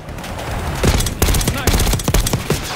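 Sustained automatic gunfire in Call of Duty Black Ops 6, rapid overlapping bursts of shots and impacts filling the clip, loud and dense, with a voice briefly audible underneath.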